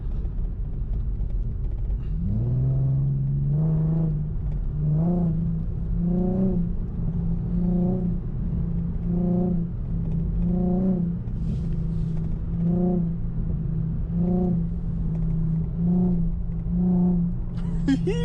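An Infiniti G37's engine revs repeatedly, rising and falling in a steady rhythm of about a dozen throttle blips over a deep idling rumble, loud and close.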